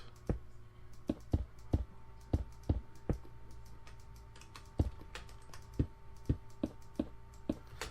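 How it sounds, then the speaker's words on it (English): Repeated clicks from a computer mouse spammed during a Minecraft session, sharp close taps in an uneven rapid rhythm over a faint steady hum, with no talking. "I am just misclicking and spam clicking everywhere."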